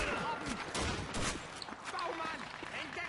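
Gunfire in the World War II shooter Call of Duty 2, a mix of near and distant shots and short bursts at moderate loudness, with voices talking over the battle.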